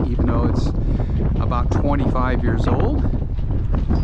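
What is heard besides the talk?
wind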